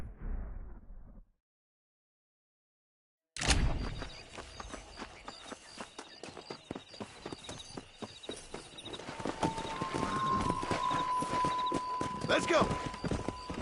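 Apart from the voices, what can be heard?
horse galloping hoofbeats in Red Dead Redemption video game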